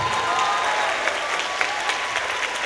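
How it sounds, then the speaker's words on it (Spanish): A theater audience applauds at a concert in Matamoros, a dense, steady burst of clapping from a large crowd that fills the whole moment without a break. "Fuerte aplauso para ellos."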